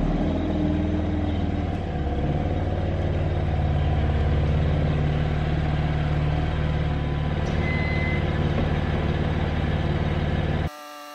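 A BMW M4 convertible's engine idles and rumbles as the car backs out, with a steady low drone, slight revving and a faint beep, close and continuous until it cuts off at the very end.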